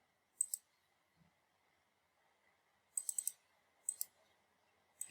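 Sharp, faint computer mouse clicks in a quiet room: a single double-click early on, then a quick cluster of four clicks and another double-click a second later, with a soft electrical hum beneath.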